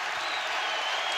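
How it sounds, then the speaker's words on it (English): Basketball crowd at Rupp Arena during a Kentucky game, a steady, dense roar of cheering and applause that fills the whole short moment with no break. "Kentucky with the lead and the crowd roaring here at Rupp."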